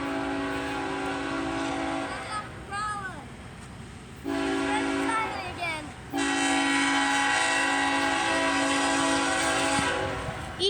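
A CSX coal train led by an ET44AH with an ES44DC and an ES44AH as distributed power passes close by, its deep diesel drone and rolling cars under loud, sustained horn blasts that cut off and resume several times.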